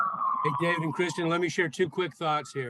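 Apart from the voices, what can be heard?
emergency vehicle siren passing outside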